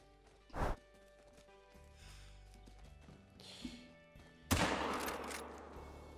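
Two loud, close rifle shots from a 45-70 in the hunting game theHunter Call of the Wild, one early and a heavier blast later that rings out, with quiet ambient game sounds between.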